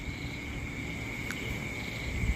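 A steady, unbroken high trill of crickets, faint and continuous throughout, with no voices.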